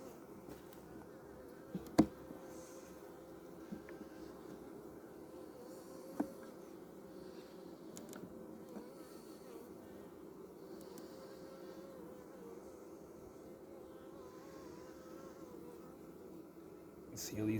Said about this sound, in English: It's our chance to do some beehive inspection.